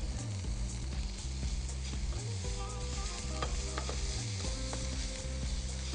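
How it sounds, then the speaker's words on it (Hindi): Pepperoni fries in a frying pan with a steady, close sizzle. Occasional stirring scrapes and a low hum run underneath. "पेपरोनी को आप फ्राइंग पैन में डाल दें। आपने पेपरोनी को अच्छी तरह फ्राई करना है।"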